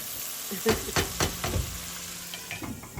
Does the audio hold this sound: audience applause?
no